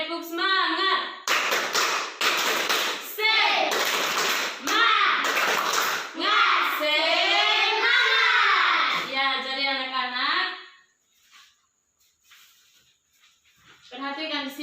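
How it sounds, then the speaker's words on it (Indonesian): Schoolchildren in a classroom perform a rhythmic spirit clap, loud patterned hand claps mixed with their chanting voices, ending in a short pause before more voices. "Jadi semua tepuk semangat ya"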